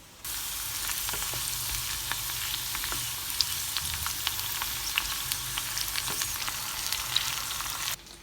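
Onions and garlic frying with softened potatoes in a pan, a steady bright sizzle with intermittent clicks and scrapes of stirring, close and continuous without talk.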